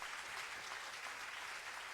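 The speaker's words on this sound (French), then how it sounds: "J'aimerais que tout le monde puisse applaudir pour cet homme" A large audience at a sickle cell congress claps steadily, a dense, even wash of applause that holds throughout with no talking over it.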